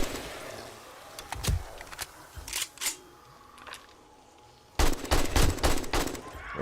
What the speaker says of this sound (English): The thumping I'm hearing is the turret.